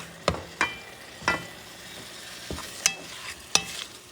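Shrimp being stirred in a pot for a Puerto Rican rice stew with pigeon peas, heard as a handful of sharp, separate scraping knocks of a utensil over a faint sizzle, close and with no talk.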